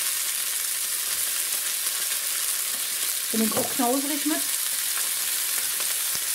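Onions and bacon jam frying together in a pan give a steady, close hiss of sizzling throughout, with someone speaking German briefly over it midway.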